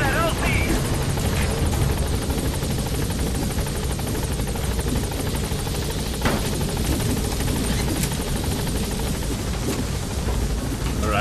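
Helicopter in the Metal Gear Solid 5: The Phantom Pain video game, its steady rotor thrum and engine drone continuing loudly throughout while someone talks over it.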